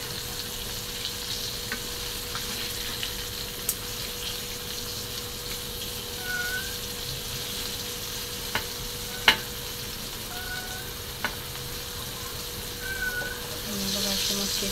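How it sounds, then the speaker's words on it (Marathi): Fresh surmai fish fries in a pan with a continuous soft sizzle. A few sharp clicks and knocks mark the pieces being flipped, the loudest about two-thirds of the way through. No one speaks. "आणि अशी सारी मच्छी पलटी करून घेणार आहे"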